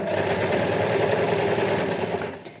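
A sewing machine runs steadily while stitching a pocket onto a nighty, a close, continuous rapid whir that holds even throughout and fades at the very end.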